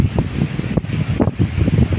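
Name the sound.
strong wind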